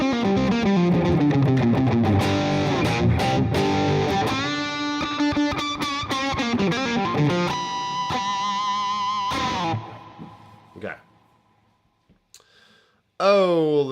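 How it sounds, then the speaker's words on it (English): An electric guitar played through reverb on a Headrush unit rings out in dense chords. Its warbling tail fades to near silence, and then a short new phrase starts. "the tail of this reverb has a nice little like warble to it"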